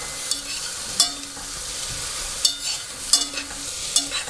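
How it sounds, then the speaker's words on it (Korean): Seaweed stir-fried with a little sesame oil in a pot for seaweed soup gives a soft sizzle, broken by several sharp scraping strokes of a spoon against the pot, close and without voices. "이거 참기름 살짝 넣고 이렇게 볶아주세요."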